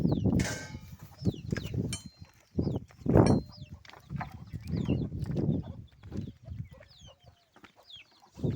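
Chickens gather around fresh drinking water in a farmyard at morning, clucking and calling repeatedly at close range, with scattered higher bird chirps and a faint clang.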